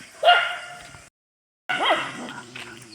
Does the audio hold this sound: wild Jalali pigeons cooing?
no